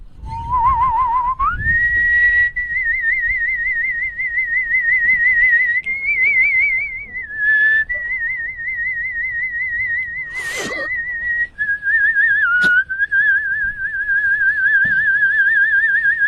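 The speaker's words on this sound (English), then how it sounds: "He's whistling in already." A man whistles a long tune with a clear, warbling vibrato, held notes sliding between pitches, loud and close, with a couple of brief bumps partway through.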